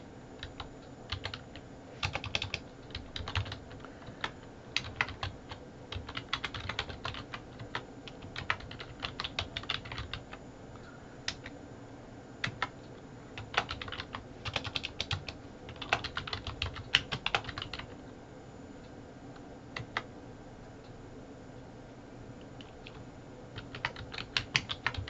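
Typing on a computer keyboard comes as scattered bursts of close, crisp key clicks with short pauses between runs, quiet and unaccompanied by speech.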